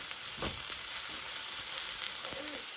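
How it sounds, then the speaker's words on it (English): Garlic sizzles in hot oil in a pan for a lamb curried rice, giving a constant bright crackling hiss close up. A few soft stirring knocks sound through it and nobody speaks. "Get the garlic nice and golden brown."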